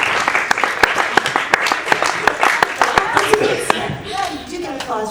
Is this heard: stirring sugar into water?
no